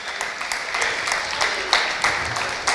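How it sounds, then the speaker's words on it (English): Crowd at an FFA ham and bacon sale applauding a buyer, steady moderate clapping with a few louder claps, heard at some distance in a large room. "Let's give him a big round of applause."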